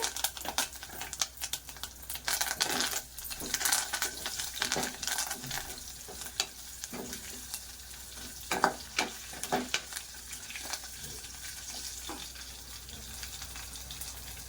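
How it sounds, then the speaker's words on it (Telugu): Curry leaves and asafoetida sizzle and crackle in hot oil for a chana dal cabbage curry, a steady close frying hiss broken by sharp pops and bursts of spattering, with no talking. "ఇది మొత్తం బాగా ఫ్రై అవ్వాలండి."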